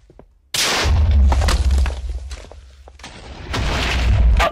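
Ghasts firing fireballs in the Nether of the video game Minecraft: loud booming blasts with crackling, fiery bursts that start abruptly, fade briefly, then surge again.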